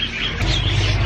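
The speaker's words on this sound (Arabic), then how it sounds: "واليوم هي جولتنا على طيور الحب" Lovebirds in a bird shop in Mosul give brief, high chirps over a dense, busy background murmur of the shop, heard close for about a second.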